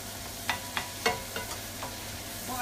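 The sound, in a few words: vegetables flash frying and sizzling in a pan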